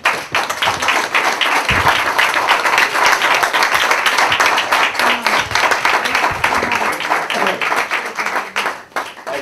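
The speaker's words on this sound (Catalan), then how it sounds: "només ens queda donar-li un fort aplaudiment al Jordi, agrair-li..." Warm, sustained applause from an audience after a local history lecture on cholera in Callús. Dense clapping runs the full length at a steady level, with faint voices mixed in underneath.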